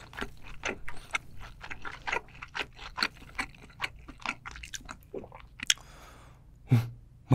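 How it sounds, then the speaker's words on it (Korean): Close, moist chewing of fish milt (iri) during a seafood mukbang, with a steady series of soft squishy bites and smacks followed by a brief clatter, with no talking. "이거 이리 바로 먹어볼게요."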